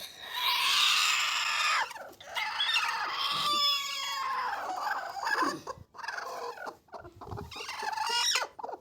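A small broody native hen sitting on a clutch of eggs clucks and croaks nearby in a series of throaty, irregular calls with short pauses between.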